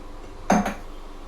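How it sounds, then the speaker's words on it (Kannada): A plate being greased with ghee for sesame barfi, heard as one brief clink of metal or dishware near the middle of an otherwise quiet stretch. "ತುಪ್ಪ ಹಾಕ್ಕೊಂಡು ಗ್ರೀಸ್ ಮಾಡ್ಕೊತಾ ಇದ್ದೀನಿ ತಟ್ಟೆ ಫುಲ್ಲು"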